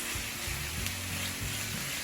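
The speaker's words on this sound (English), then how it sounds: "fry the onions for about 2 minutes" Onions and garlic fry in a pan for a chicken and cheese tortilla pie, giving a steady close sizzle and crackle with faint stirring thumps underneath.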